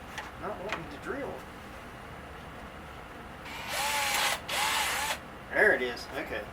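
A power drill bores into a Jaguar door panel in two short, strained bursts of whining motor noise close to the microphone, with someone talking before and after.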